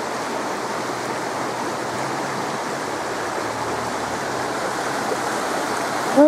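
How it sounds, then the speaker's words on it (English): Water from a mountain spring rushes in a steady, close, broadband flow that holds constant throughout, with a faint brief squeak at the very end. "there must be a spring right here because there's water on it"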